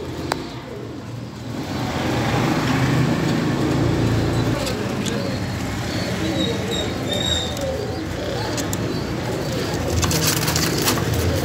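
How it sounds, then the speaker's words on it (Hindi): Pigeons coo softly amid a steady wash of outdoor noise and distant traffic. "सारे अच्छे परिंदे हैं माशाल्लाह, उड़े उड़ाए कबूतर हैं।"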